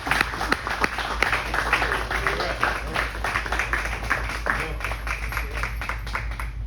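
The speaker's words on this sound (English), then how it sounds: "give these ambassadors and fathers an applause." Family members in the audience applaud fathers at a coming-of-manhood ceremony, scattered moderate clapping continuing steadily over a constant low hum, with some voices mixed in.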